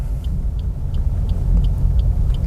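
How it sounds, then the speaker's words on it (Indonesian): A manual car's engine revs as it pulls away on an uphill slope, giving a steady low rumble that swells slightly and stays close and loud, with faint regular ticks above it. "Terus tambah, angkat koplingnya perlahan sampai mobil jalan ya, sambil melepas rem tangan."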